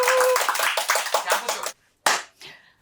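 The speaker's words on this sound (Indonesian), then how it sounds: "Tepuk tangan dulu." An audience claps hands in a studio setting with a short burst of dense clapping, a sudden stop, one brief clap, and then fading noise. Voices murmur faintly in the background.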